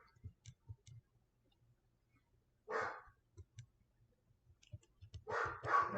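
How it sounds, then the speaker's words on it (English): Two dogs, one outdoors and one indoors, bark in short scattered bursts at a distance, fairly faint against a quiet room with some light clicking and ticking. "I hear the outside and the inside dog raising hell."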